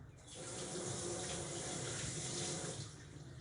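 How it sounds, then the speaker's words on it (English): Water runs steadily from a kitchen tap while hands are washed, a continuous close splashing hiss lasting about three seconds. "I'm just quickly going to wash my hands"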